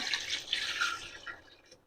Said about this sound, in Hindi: और यहाँ मैं पानी कर रही हूँ ऐड।